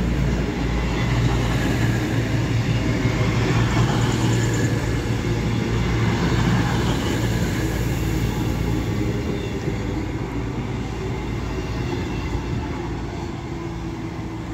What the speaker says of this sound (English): And there is a pairing of sprinters running, I don't know, to Manchester Piccadilly.